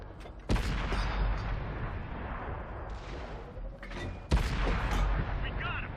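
Two heavy cannon blasts from a Challenger tank in a World of Tanks-style battle on the Erlenberg map, spaced about four seconds apart, each a sharp loud crack with a booming tail, over constant engine rumble and battle noise.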